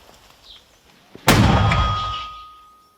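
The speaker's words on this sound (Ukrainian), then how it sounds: "Постріл!" One heavy, booming 120 mm mortar shot goes off nearby after a quiet moment, its blast ringing out and slowly fading.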